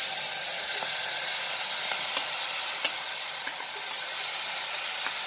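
Okra hits a dry, oil-free pan while cooking bhindi sabzi with tomatoes, giving a steady close hiss of sizzling with a few small crackles and pops scattered through.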